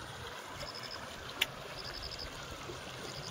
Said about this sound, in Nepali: साह्रै मजाले चलिरहेछ है कुलोको पानीहरू